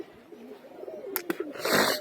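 Pigeons coo softly in a loft on a foggy morning, a few low murmuring calls followed by a brief burst of wing flapping near the end, no talk.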